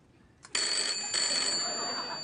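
A telephone rings on a late-night talk show set. A short click is followed by a loud, bright, continuous electronic ring that sounds nearby, with no voices over it.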